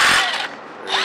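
A power drill whirs loudly, then winds down to a lower hum before revving up again near the end, used on a billet aluminum Hoyt Formula Xi bow riser part.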